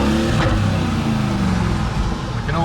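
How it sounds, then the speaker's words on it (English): A Mercedes-AMG GT Black Series and a G63 rev their engines in a traffic jam, loud close engine roar rising and falling in a dense, continuous blast of sound. "We can all drop it into neutral and give it some revs."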